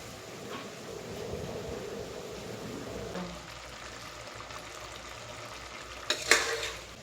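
Country chicken sautéing in a pan sizzles steadily while being stirred, giving a continuous frying hiss with soft scraping, and a brief louder clatter near the end.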